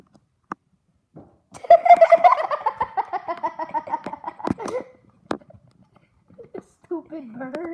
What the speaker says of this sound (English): It's the same bird running into the window.